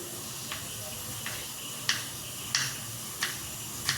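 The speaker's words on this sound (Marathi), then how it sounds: "आता बटाटा घेऊ पातळ छान बारीक कापून" A knife slices a peeled potato thinly, giving sharp, spaced cuts about every half second over a soft hiss, close and fairly quiet, with no talking.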